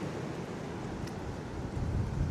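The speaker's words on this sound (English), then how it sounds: "It's quite windy, so I hope you can hear me." Wind blows steadily into a microphone outdoors during bonsai repotting of Japanese Zelkova, a constant broadband rumble and hiss that swells slightly toward the end, with no voice.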